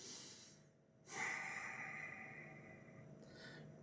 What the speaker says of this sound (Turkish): Burnunuzdan nefes alın ve burnunuzdan verin.